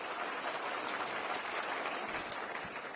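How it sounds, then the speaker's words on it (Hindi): Quiet, steady clapping from an audience at a political event, heard at a distance and held at an even level with no talk over it. "एक बार जोरदार तालियां भाई।"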